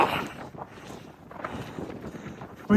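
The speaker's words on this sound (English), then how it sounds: "but very windy." Strong wind buffets the microphone at a mountain overlook about 4,000 feet up on the Appalachian Trail, gusting in uneven rushes with a sharp blast at the end, loud and close with no talk.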